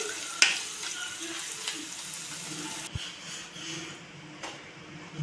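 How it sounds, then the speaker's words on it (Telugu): A tempering of spices fries in a pan with turmeric stirred in for mango pulihora: a soft, steady sizzle, fairly quiet, with a sharp clink of a utensil early on and light stirring scrapes. "ఇలా అన్నీ కాస్త వేగిన తర్వాత కాస్త పసుపు పసుపు వేసేసుకొని ఇలా కలిపేసుకోవాలి"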